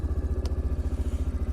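A four-wheeler ATV engine runs on a snowy Alaska trail, a fast, even rhythmic chugging pulse close to the mic, with one brief sharp click partway through and no talk.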